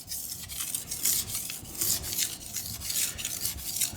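A knife rasps back and forth across a Naniwa 3000 grit Pro whetstone in steady, even strokes, soft close scraping repeated about twice a second.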